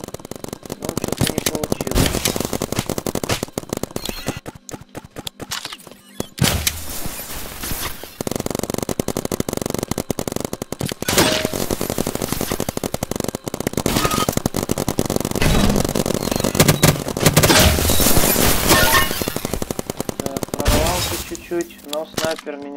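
Rapid gunfire and explosions from the Roblox game Big Paintball fill a long stretch of dense, loud, crackling bursts with short pauses between volleys, as in-game cannons are destroyed.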